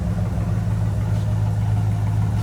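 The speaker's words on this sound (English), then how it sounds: "Nice tone from the dual exhaust." A 1977 Ford Bronco idling through its dual exhaust, a steady, deep low rumble held close and even throughout with no talk.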